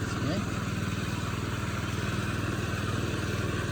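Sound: Hecht 2650 dumper driving with a load

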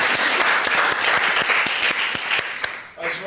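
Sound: audience applause at a panel event

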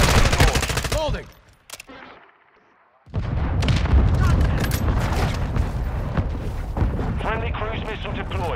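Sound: friendly mortar strike explosions in Modern Warfare II video game

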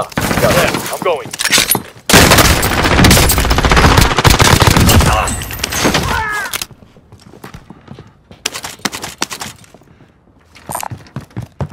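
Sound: gunfire in Call of Duty Warzone video game

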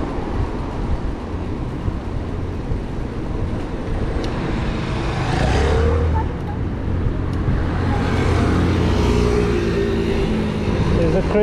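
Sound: heavy road traffic in The Hague

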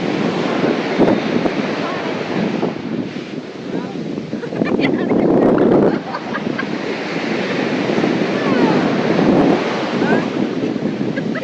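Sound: waves at Uppada beach, Kakinada

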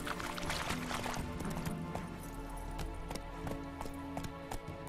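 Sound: horse hooves clip-clopping, from The Witcher 3 video game

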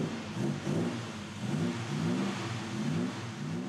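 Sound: BMW 507 classic car engine revving

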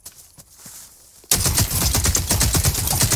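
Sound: gunfire in video game The Cycle: Frontier

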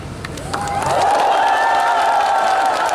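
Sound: TV studio audience applause

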